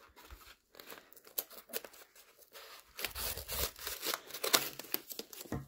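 Scissors cutting open sticky packaging up close, irregular snips with crinkling and tearing of the wrap in uneven bursts.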